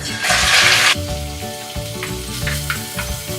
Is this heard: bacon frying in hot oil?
yes